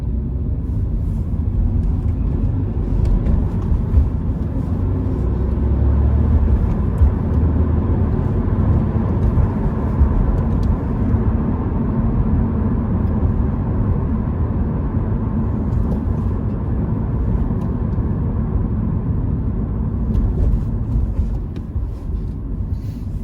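Cabin noise inside a moving Toyota GR86, a steady low road and engine rumble with tire roar that holds constant throughout, no voices over it.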